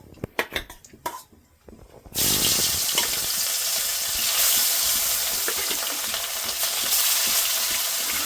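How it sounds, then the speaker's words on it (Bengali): Pieces of katla fish fry in hot oil with a loud, continuous crackling sizzle. It starts abruptly after a couple of seconds of clattering kitchen knocks. "সবগুলো মাছ ভাজা হয়ে গেছে"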